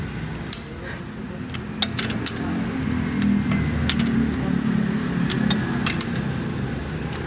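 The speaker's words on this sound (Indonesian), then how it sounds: "Dan lanjut untuk mengecek kekencangan baut roda." Wheel bolts on a Honda Brio are checked for tightness, giving a few sharp metallic clicks and taps over a steady low background hum.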